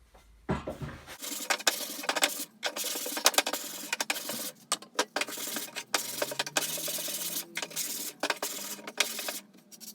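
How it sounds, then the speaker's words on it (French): Wooden squares being sanded by hand, close and continuous scratchy rubbing in uneven strokes with brief pauses, after a short low thump at the start. "Donc je ponce"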